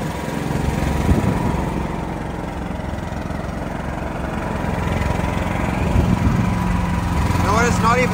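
Emergency generator engine running steadily during a routine test, a continuous mid-loud drone with a low hum throughout, while people talk nearby.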